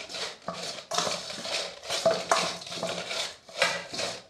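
Raw mango pieces get tossed with salt and turmeric powder in a bowl, giving rhythmic rustling, scraping strokes with light clinks of a spoon, close by and with no speech.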